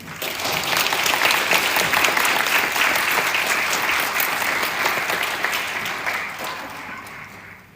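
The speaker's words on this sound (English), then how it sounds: "So please give a big applause to them." Audience applause at the UN Day of Vesak ceremony in Bangkok, honoring the university event team; dense, sustained clapping from a large crowd runs for several seconds before gradually tapering off.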